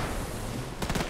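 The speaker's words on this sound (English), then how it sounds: "Artillery." Artillery fire in the World War II game Gates of Hell: loud, dense blasts and rumbling over continuous battle noise, with a sharp cluster of impacts near the end.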